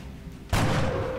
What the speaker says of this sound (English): let's take that sniper rifle. And let's own this guy.